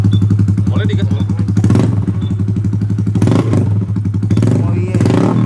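Yamaha motorcycle engine idling loudly up close with a rapid, steady putter and a few revs, while people talk over it throughout.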